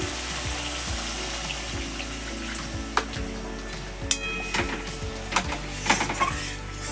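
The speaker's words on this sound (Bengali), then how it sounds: "দিচ্ছি জল" Water poured into a pan of Bengali rohu fish curry with poppy seed paste, a steady rushing, hissing splash with a few sharper clatters near the end, close and fairly loud.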